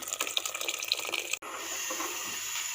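Kahwa tea poured into thickened, cooked milk for Kashmiri pink tea: a steady splashing stream of liquid that briefly breaks off, then settles into a smoother, continuous pour, close by with no talk.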